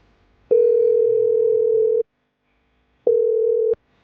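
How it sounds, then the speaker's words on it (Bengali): A telephone ringing tone sounds close and clear: one long steady tone, a pause, then a second shorter tone, with near silence between. "আচ্ছা সিয়াম রে একটা ফোন দিই।"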